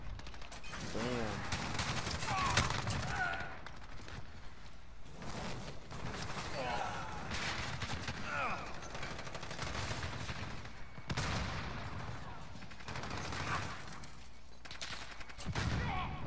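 Repeated shotgun blasts in Call of Duty: Modern Warfare, heavy booming shots at irregular intervals amid other game gunfire and mechanical clatter, with a player talking over the action.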